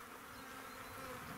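Honey bees buzz steadily and densely around a beehive at an apiary after winter, a continuous close swarm hum with no voices.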